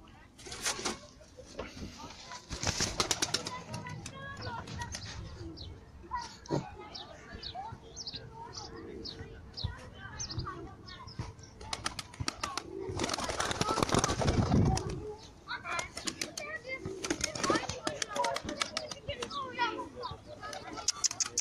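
Pigeons being fed and taking flight, with cooing and wing flutters mixed with children's voices and people talking throughout, a burst of flapping rising in the middle.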